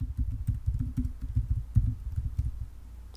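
A password typed on a computer keyboard at a terminal, a quick run of dull muffled keystrokes in an uneven rhythm, close and moderately loud.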